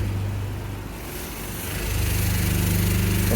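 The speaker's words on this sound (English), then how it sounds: "I think it takes a while, like my real pressure washer does take a bit of a while" A self-service jet wash pressure washer drones steadily at close range, its low motor hum dipping briefly then building back up to a constant, slightly louder run.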